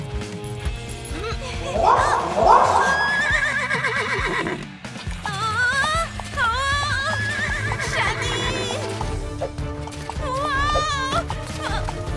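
A horse neighs loudly several times, shrill whinnies rising and falling over a busy background with hooves and music.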